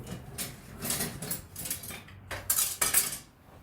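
A grated ingredient for a Margherita pizza sauce is strained, with light clinks and scrapes of metal utensils against a strainer and bowl, close by and uneven, louder toward the end, with no talking.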